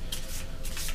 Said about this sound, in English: We're going to shuffle these up.